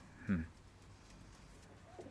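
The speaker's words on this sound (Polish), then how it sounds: "No i tu są gołębie." Pigeons at a loft, one short low coo near the start followed by quiet room background and a faint second call at the end.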